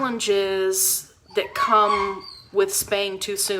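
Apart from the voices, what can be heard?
two poodle puppies fighting and whimpering under a desk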